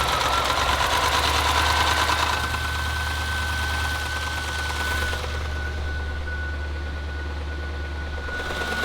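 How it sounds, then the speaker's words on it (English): A car engine on a salvage vehicle runs rough with a steady, heavy knock and rattle, like nails loose inside, droning loud and close throughout. "That sounded like it had nails in the engine."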